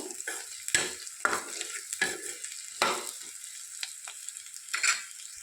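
Drumstick pieces for a curry are stirred in a sizzling pan, with several distinct spoon scrapes and clanks against the metal over a soft, steady frying hiss, close up with no talking.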